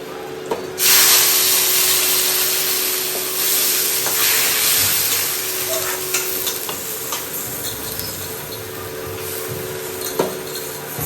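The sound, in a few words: dal tempering sizzling in hot oil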